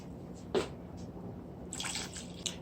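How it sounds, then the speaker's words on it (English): Water splashes and trickles into a pot of coconut milk and rice in a few short bursts, with drips and gurgles, close and fairly quiet. "let me pour some more water on it to get a full cup."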